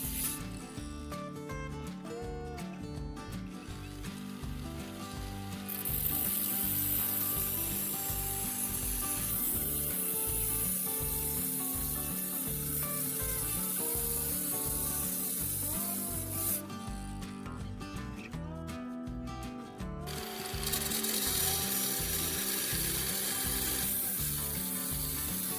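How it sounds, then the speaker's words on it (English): A cutting machine slicing through tin can metal along marked lines, giving a continuous grinding, rasping mechanical noise with rhythmic ratcheting pulses and steady loudness throughout. "After that, I use a cutting machine to cut along the marked lines."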